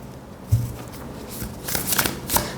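Tarot cards being shuffled by hand, a close riffling and sliding patter with a few soft taps, alone without talk.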